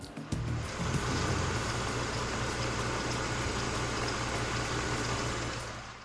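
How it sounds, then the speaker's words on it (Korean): Engine of a Mercedes-Benz E-Class E300 Avantgarde idling outdoors, heard close up as a steady, smooth, quiet hum with a faint rushing wash and no belt noise, running evenly for the whole stretch with no talk. "엔진 소음 한번 담아 보도록 하겠습니다"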